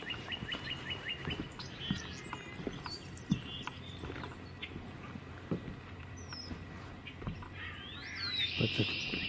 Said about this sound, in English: we're hearing chickadees, but I'm not hearing other alert calls.